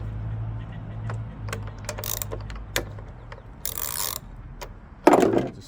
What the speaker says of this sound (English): now we're going to take these three screws off and turn this 90 degrees